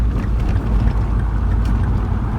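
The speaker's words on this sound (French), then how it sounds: "ce qui est intéressant dans cette voiture, c'est vraiment aussi le bruit" A Mini Cooper engine roars in a steady, dense rumble from inside the car while driving through Paris, loud and continuous with no talking.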